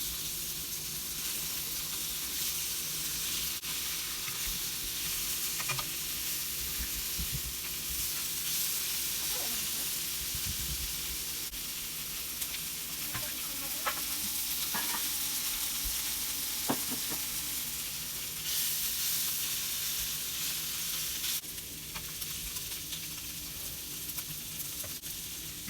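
Fully cured, smoker-cooked venison bacon browning in a pan, a steady close hiss and sizzle running unbroken for a long stretch, with occasional faint clicks and no one talking.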